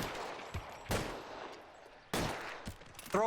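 Gunshots in the video game L.A. Noire, a few loud, sharp reports spaced apart with reverberant tails over background game noise, and a voice briefly at the end.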